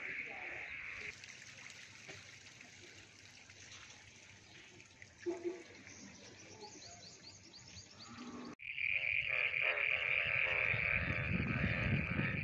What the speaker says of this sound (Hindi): ये मेंढक हैं जी।